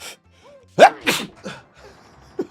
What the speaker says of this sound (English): Ooh, I gotta sneeze.